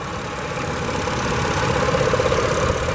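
A 2017 GMC Acadia SLT's GM 3.6-liter V6 idles under the hood, a steady mid-pitched engine drone with a faint rhythmic knock, holding constant and growing slightly louder toward the end.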